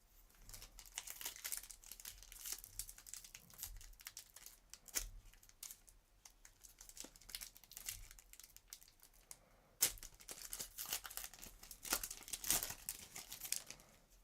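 Magic: The Gathering card packs are torn open and handled, giving close, continuous crinkling and tearing of foil wrappers with sharp rips and bursts of card rustle throughout, no talking.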